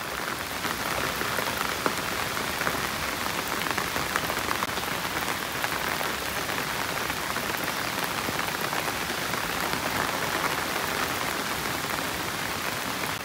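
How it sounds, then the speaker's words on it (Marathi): Heavy monsoon rain pours steadily near Gadeshwar Dam outside Panvel, a dense, continuous hiss close by that never lets up across the whole stretch, with no voices. "आणि असा काही आज पाऊस पडतोय यार"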